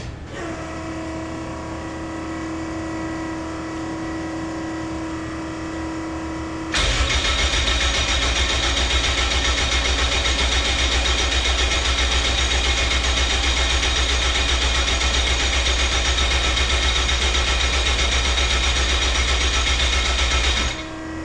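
An AWD Honda Civic EG on a new ignition cranks briefly, then fires and settles into a loud, steady idle that keeps running close by for the rest of the stretch.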